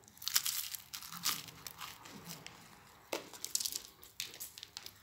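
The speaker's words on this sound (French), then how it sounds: "Quand je mange le tortillon, la tortillon, donc, il est croustillant." Someone bites and chews a crispy twisted tortillon snack, giving irregular crunchy bursts close to the ear with quiet gaps between them, and no talking.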